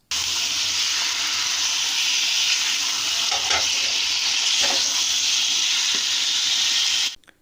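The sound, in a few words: frying 1.5 kg of beef for karahi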